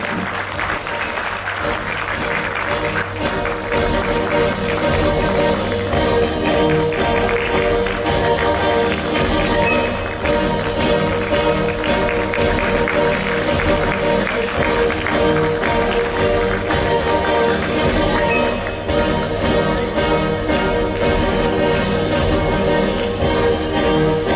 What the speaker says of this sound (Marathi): जोरदार टाळ्या होऊन जाऊ द्यात.